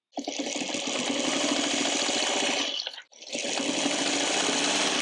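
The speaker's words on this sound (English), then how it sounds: "Now I'm going to take this over to my sewing machine and I'm going to stitch on those 2 lines" A sewing machine stitches fabric for a bowl cozy in a fast, loud continuous whir, pausing briefly for a moment before starting up again.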